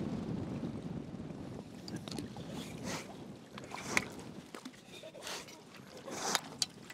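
Steady wind blowing across an open shoreline while fishing for bream and whiting, a low rushing roar with buffeting gusts against the microphone, plus a few faint clicks and handling knocks.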